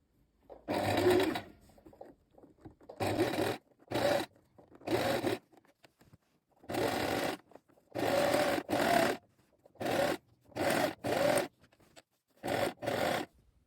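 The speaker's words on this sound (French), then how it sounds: "je vais réaliser une surpiqûre sur tout le tour en allongeant mon point sur 4" A sewing machine topstitches all around a sewn top at stitch length 4, running in about ten short whirring bursts separated by quiet pauses. It is close and heard alone.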